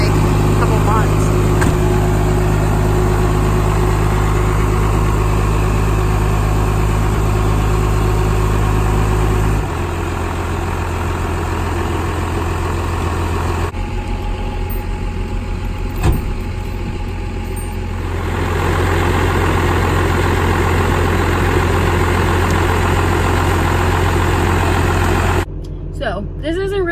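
A 12 valve diesel truck engine idles loudly and steadily close by, a deep rumbling drone that shifts in pitch partway through, with people talking over it.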